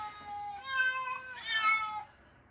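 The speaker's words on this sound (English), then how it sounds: "Those are your cats meowing like that?" Pet cats meow close by, two long drawn-out meows one after the other, loud and clear with no talking.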